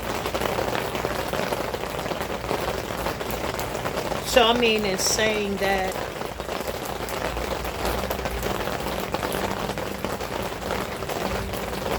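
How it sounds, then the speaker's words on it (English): Steady rain falling on a surface, a dense continuous patter throughout, with someone talking over it for part of the time. "you needed this rain."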